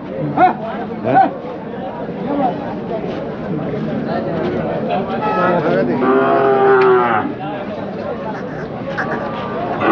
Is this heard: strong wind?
no